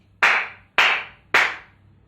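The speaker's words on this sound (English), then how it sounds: "Palma Seca Seca means dry in Spanish, so it's really the high-pitched clapping" Three sharp, dry flamenco palma seca hand claps ring out close and evenly spaced, each a bright, crisp crack with a brief trailing decay.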